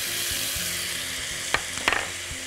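Fresh coriander, parsley and spices drop into a pan of frying tomato sauce, a steady oily sizzle with two sharper bursts of crackle as the herbs hit, close and alone.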